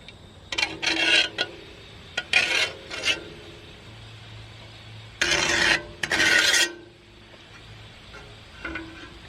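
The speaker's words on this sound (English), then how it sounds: "I have one of these little V carbide knife cutters, and knife sharpener, I mean, and I think, yes, I can go through and clean it up like that." A small V carbide knife sharpener drawn along an antique Keen Kutter scythe blade, a series of close, raspy scraping strokes in bursts separated by short pauses.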